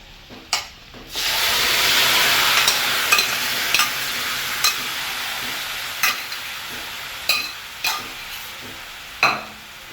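Boiled elephant foot yam tossed and stirred in a hot pan for a Kerala-style stir-fry, giving a steady close sizzle broken by sharp scraping knocks of a spoon against the pan.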